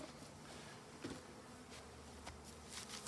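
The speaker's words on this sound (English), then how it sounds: "The bees have been getting the sugar water there." Honey bees buzz around a hive feeder of sugar water, a faint, continuous insect drone close by with a few brief louder passes and light handling knocks.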